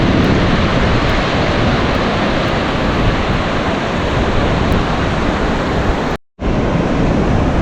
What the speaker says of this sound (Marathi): आणि ॲक्च्युली आज लाटा पण मोठ्या मोठ्या येत आहेत.